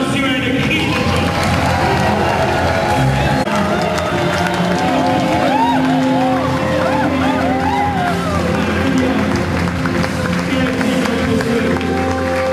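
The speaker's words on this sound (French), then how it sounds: "est-ce que tu peux l'offrir une louange d'acclamation et de cri de joie?" A church congregation at a thanksgiving and dedication service in Kinshasa cheers, shouts and applauds in sustained, loud praise. The crowd noise is dense and continuous, with excited voices rising over it throughout.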